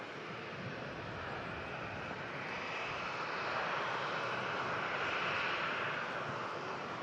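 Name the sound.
airplane arriving at airport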